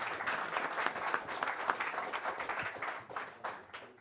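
Audience applause after a startup pitch at a maker pitch event, a steady wash of many hands clapping for about four seconds that thins out toward the end.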